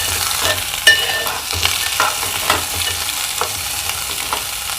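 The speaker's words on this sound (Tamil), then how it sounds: "வெங்காயம் வந்து நல்லா வதங்கட்டும்." Onions sautéing in an oil pan for small bitter gourd poriyal: a steady close sizzle with scraping stirs at a loose rhythm, a sharper clink near the start, no voices.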